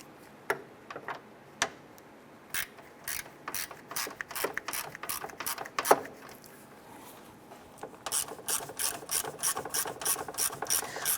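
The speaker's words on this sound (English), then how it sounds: "Install our two 10mm screws to secure this in place." A ratchet drives 10mm screws into the radiator fan assembly of a Nissan Versa. Sparse clicks give way to rapid bursts of close, crisp ratcheting, with quiet pauses between.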